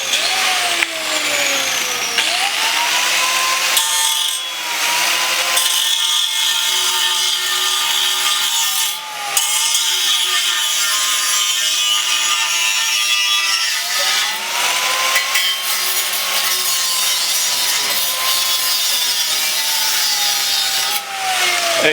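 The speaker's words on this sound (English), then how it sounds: "Tristan, why are you cutting the hanger off" A power tool cutting off a hanger on a Nissan 240SX during a car build, a loud, continuous grinding whine with rising and falling pitch and brief pauses, close by and alone.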